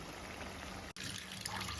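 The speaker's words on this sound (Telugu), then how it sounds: "చింతపండు రసం అయితే వేస్తున్నాను" Tamarind juice poured into a simmering fish curry, a steady close liquid trickle and splash with a brief break midway, no talk.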